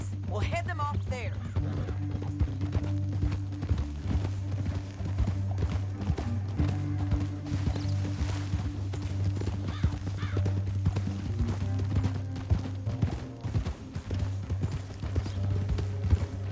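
Steady clip-clop of horse hooves on the move in Red Dead Redemption 2, a continuous rhythmic patter running under in-game voices and low background music throughout.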